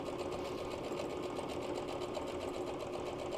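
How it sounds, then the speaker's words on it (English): Sewing machine stitching straight down a quilt seam, a steady close whir with a fast even needle rhythm, running continuously without pause. "And just sew straight down."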